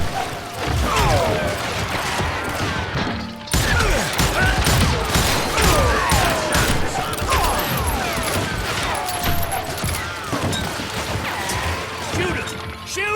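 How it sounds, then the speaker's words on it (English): Repeated gunfire in the western shooter video game Call of Juarez Gunslinger, a dense, loud barrage of shots and impacts running almost without pause, with game voices shouting over it. "Watch where you're shooting!"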